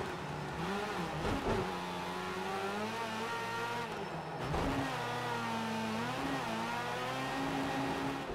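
Race car engine from the racing video game Project Cars 2, a steady loud engine drone with gear-change dips and rising revs, heard alone without voices.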